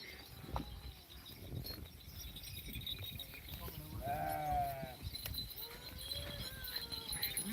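Goats and sheep of a roaming flock bleat in a wet, rainy area of Sangli, with one long wavering bleat near the middle and scattered fainter calls and shuffling around it.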